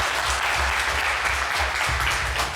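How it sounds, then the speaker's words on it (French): Audience applause on a French TV game show with a magic chest, steady dense clapping filling the whole stretch at moderate level. "Allez, sous les applaudissements."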